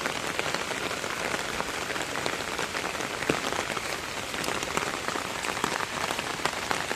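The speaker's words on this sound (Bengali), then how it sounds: "প্রচুর পরিমাণে বৃষ্টি হচ্ছে।" Heavy rain pours steadily after a night of rainfall, a dense continuous hiss of drops striking surfaces with scattered sharper splashes, loud and close with no speech.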